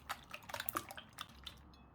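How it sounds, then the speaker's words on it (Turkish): A wire whisk beats five eggs in a mixing bowl, giving quiet, quick metallic clinks and taps in an uneven rhythm, close but faint. "Yumurtaları çırpma teliyle çırpıp diğer malzemelere ekleyeceğim"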